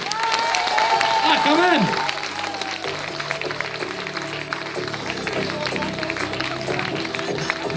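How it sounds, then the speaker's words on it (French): An audience applauds students at a school eloquence contest in a middle school at Trois-Bassins, a dense wash of clapping with cheers, steady through the clip while a voice speaks briefly over it. "Applaudissez-les bien fort, ils le méritent. Oh, plus fort là!"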